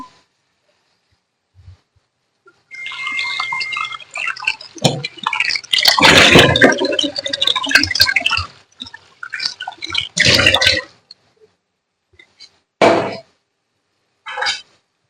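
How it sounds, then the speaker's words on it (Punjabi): Water is poured over cut potatoes in a kitchen, heard as uneven close splashing bursts with short gaps and a few brief final splashes. "ਜਿਹੜੇ ਆਪਾਂ ਆਲੂ ਕੱਟੇ ਨੇ ਇਹਨਾਂ ਦੇ ਵਿੱਚ ਧੋ ਮਾਰ ਕੇ ਪਾਣੀ ਪਾ ਕੇ ਰੱਖ ਦਿੰਦੇ ਹਾਂ"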